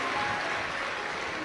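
Applause from a large devotional gathering at a Shiv Mahapuran katha welcoming guests, a dense steady wash of clapping for the whole moment with no break.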